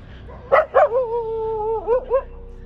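Dogs barking near a cemetery at night, two sharp barks followed by a long drawn howl-like whine and two more short yelps, fairly close and loud against a quiet background.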